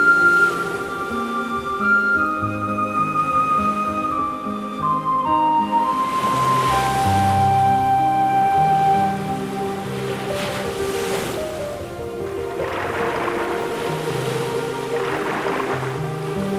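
Ocean waves wash in on a shore in steady, overlapping surges, a broad continuous rush with wind noise over a soft musical bed, no voices.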